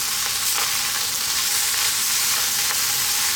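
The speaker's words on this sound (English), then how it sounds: "You actually need to fry the rice." Rice for mushroom fried rice frying in a hot pan, a steady dense sizzle with soft scraping as it is turned, close and loud throughout.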